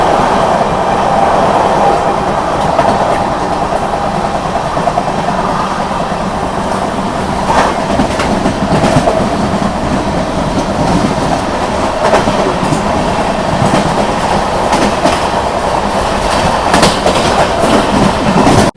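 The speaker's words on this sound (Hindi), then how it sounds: "ट्रेन तो अपनी आनंद विहार से अभी जस्ट निकली है" The Agartala Tejas Rajdhani Express rolls along just after leaving Anand Vihar, heard from inside a carriage: loud steady rumble with a repeating clickety-clack of wheels over rail joints the whole way through, no talk.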